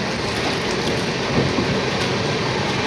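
Inside a carriage of the Saraighat Express between Kolkata and Guwahati, a steady, loud rolling rumble and hiss of the running train continue without a break, with no voices.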